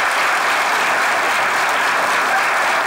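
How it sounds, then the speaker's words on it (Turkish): Loud, continuous audience applause fills the whole moment, a thick, even roar of many hands clapping. "Tekrar alkışlayalım Oğuz'u."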